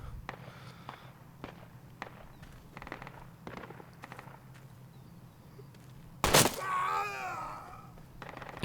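A single sharp, loud gunshot-like burst cracks out of a quiet soldier-combat scene in the video game Project Reality, followed by a wavering, groan-like tone and faint scattered thuds in the background.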